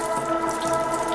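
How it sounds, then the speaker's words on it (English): Water spilling from an overfilled container during a lamp demonstration: a short, steady trickle and splash with a tonal ringing edge, close and fairly loud, no speech. "I got a little too much water in there. Spilt a little water."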